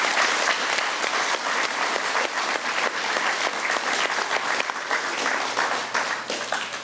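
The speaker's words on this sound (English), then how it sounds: "And one more round of applause for all of our President's Award winners." A room full of people applauds President's Award winners at a school graduation event for middle schoolers, the clapping dense, even and continuous from start to finish with no talk over it.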